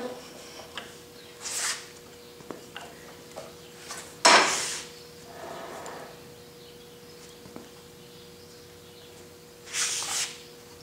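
Antique Emmert pattern maker's vise being adjusted, giving scattered metallic scrapes and clunks, one sharper knock near the middle, spaced by quiet stretches over a low steady hum.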